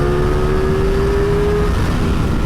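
Motorcycle engine pulling hard in fifth gear, a loud continuous drone with a steady, slightly rising pitch, close and alone for a few seconds.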